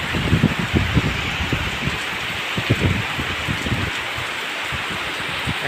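Heavy rain pours steadily over green paddy fields under a cloudy sky, a dense, continuous hiss of drops with soft low patters and no voices, even and close throughout.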